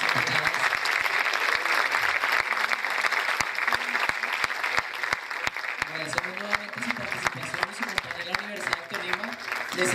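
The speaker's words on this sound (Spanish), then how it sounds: "Tenemos un fuerte aplauso para las invitadas." An auditorium audience gives a long, strong round of applause for guest speakers, a dense bed of clapping with sharp individual claps standing out, and voices murmuring beneath it toward the end.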